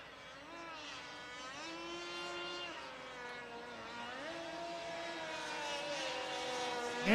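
A racing powerboat engine howls at full throttle at a boat race, its pitch climbing and holding in repeated surges as it accelerates past, sustained and moderately distant with no talk.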